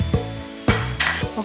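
Onions sizzling in a hot pan with turmeric and ginger-garlic paste added, a steady close fry broken by a few sharp stirring scrapes and spatula knocks.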